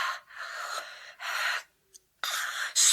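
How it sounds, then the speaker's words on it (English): Heavy, ragged breathing from a woman in a Vincent Price radio horror drama: several drawn-out breaths and gasps in sequence, separated by short pauses, with a sharper gasp at the end. "This is where her breathing gets heavier."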